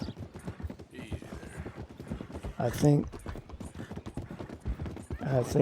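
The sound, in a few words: horse hooves on a bridge in Red Dead video game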